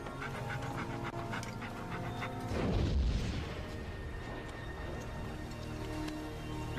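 A female dog in the game Conan Exiles pants steadily in quick rhythmic breaths, with a deep boom rumbling up partway through before the panting carries on.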